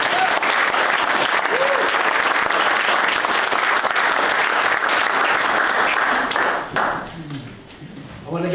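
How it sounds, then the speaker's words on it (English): An audience at a village board of trustees meeting in Tivoli claps in a dense, sustained round of applause for about seven seconds, then it thins and tapers off into quieter room noise. "You guys clap for that."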